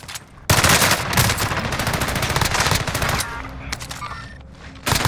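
Loud, dense bursts of automatic gunfire and single shots from a Call of Duty: Modern Warfare match, rattling almost continuously after a brief quiet start and easing slightly toward the end.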